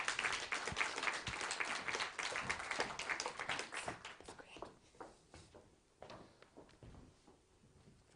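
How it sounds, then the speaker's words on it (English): An audience applauds a speaker being welcomed to the stage, dense clapping that gradually thins into scattered claps and fades toward the end, with faint shuffling noises. "let's just give a round of applause and have Don here."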